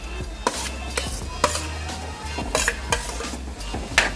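Mashed potatoes are stirred into a dry-spiced mixture in a pan, with repeated close spatula scrapes and clinks against the metal over a light sizzle, at an uneven rhythm and without any speech.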